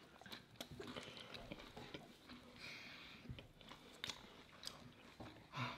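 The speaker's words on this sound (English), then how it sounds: "It's so crunchy." Close, quiet crunching and chewing of spicy Popeyes fried chicken, with irregular crisp bites and mouth sounds over several seconds and no talking.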